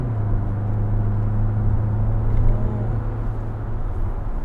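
A steady low engine drone heard from inside a new Kia Sportage (NQ5) SUV, with a constant booming-tuned humming tone and road rumble at an even level throughout.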